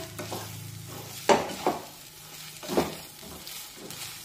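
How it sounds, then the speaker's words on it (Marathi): A spoon stirs barnyard millet shira sweetened with jaggery and ghee in a pan, with several scraping strokes over a soft sizzle and no talk. "आता पुन्हा एकदा सर्व व्यवस्थित मिक्स करून घेऊया"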